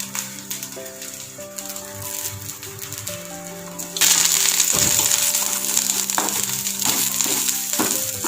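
Shallots and curry leaves, still on their stems, frying in hot oil for Kerala spinach sambar, with a steady close sizzle that jumps louder midway as more goes into the pan, plus occasional scraping.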